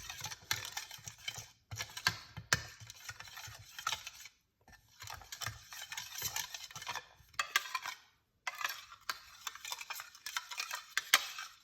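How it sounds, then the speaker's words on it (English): Cayenne pepper being stirred into a mixture with a utensil, giving quick, close clicking and scraping bursts in uneven clusters separated by short pauses, with no talking. "Mix it out."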